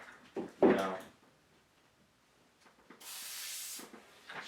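A dual action airbrush sprays paint in a short, steady hiss of about a second near the end, following a stretch of talking.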